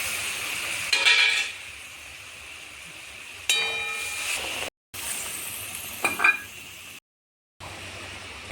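Potatoes sizzle in hot oil for a Bengali chhanar dalna (paneer curry): a steady, moderate frying hiss with a few louder crackling bursts, broken by two short silent gaps.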